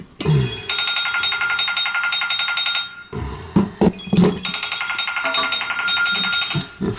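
A phone rings with an incoming call, a loud, near, sustained electronic trill in two long bursts separated by a brief pause with a few thumps.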